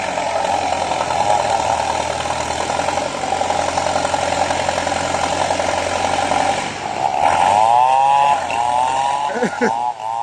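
A D50A bulldozer engine labours in first gear while climbing a steep hill to push over rubber trees. Its loud, steady drone runs throughout, with a brief voice near the end.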